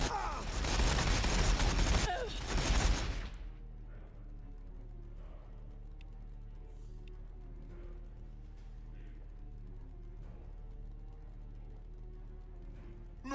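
Burst of rapid video game gunfire, loud and dense for about three seconds, then cutting off to a quiet low hum with faint distant clatter.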